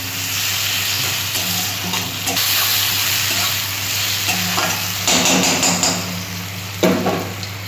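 Sliced onions with salt and sugar frying in a pan, a steady close sizzle with intermittent stirring scrapes and clinks of a utensil against the metal.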